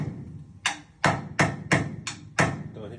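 Hammer blows strike a closet's 2x4 wall framing: six sharp, close, loud impacts at an irregular, fairly quick pace, with no talking.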